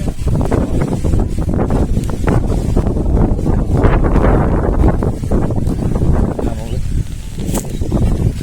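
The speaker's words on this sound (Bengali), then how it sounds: "এখানে প্রচুর বাতাস আছে" Strong wind on a rocky hilltop buffets the microphone in loud, gusty bursts, with rustling and a voice talking underneath.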